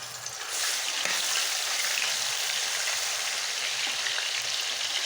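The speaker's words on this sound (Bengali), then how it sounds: "তেলটা গরম হয়ে গেছে। আমি এক এক করে মশলাটা দিয়ে দেবো। দিয়ে নেব পেঁয়াজ আর রসুন বাটা," Onion and garlic paste drops into hot oil for a mustard hilsa curry, and after a brief quiet moment a loud, dense sizzle bursts up and holds steady and close.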